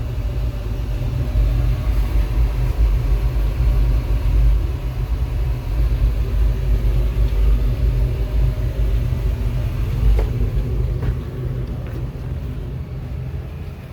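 An Optima XD machine, started after long storage, runs with a steady low rumble and engine drone, continuous and fairly loud throughout with no talking.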